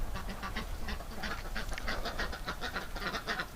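Ducks quack repeatedly in a steady, chattering rhythm, a flock heard at moderate distance with no voices.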